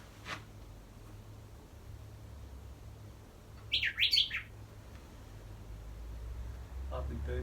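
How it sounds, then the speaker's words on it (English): Birds chirp outside, heard from indoors, with one clear burst of quick high tweets in the middle and a faint call near the start over a quiet low hum. "Lovely bird sound outside."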